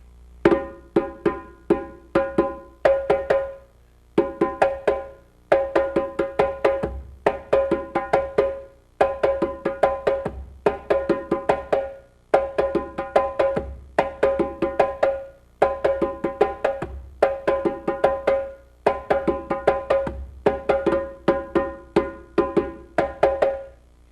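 Close hand drumming plays the first part of the Kassa rhythm, a lively pattern of crisp slaps and deeper tones, phrases cycling steadily with short gaps, no voices present.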